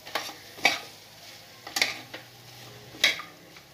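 A bottle gourd dish with chopped coriander stirred in a pan, three or four distinct scraping strokes with a light metallic clink in each, separated by quiet pauses under a faint sizzle.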